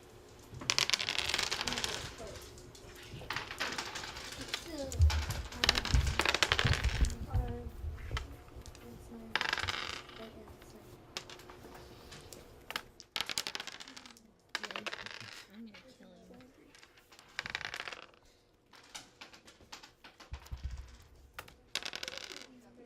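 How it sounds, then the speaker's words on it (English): Students rolling dice in a classroom, scattered clattering rattles and knocks on desks in irregular bursts over a long stretch, with several voices talking in the room. "All right, go ahead and start rolling."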